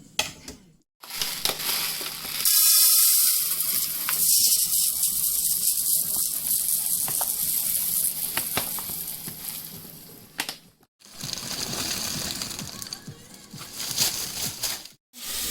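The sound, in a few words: onions frying in a pot for rice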